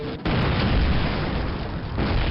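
A bomb explosion in the Call of Duty game, a sustained loud roaring blast of broadband rumble filling the whole moment after a brief quieter start.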